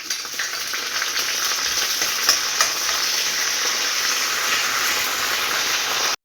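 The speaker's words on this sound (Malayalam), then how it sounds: "കറിവേപ്പില ഇട്ട് കൊടുക്കുക" Curry leaves crackle and sizzle loudly in hot oil for sambar, a steady frying hiss with occasional sharper pops that holds evenly before cutting off at the very end.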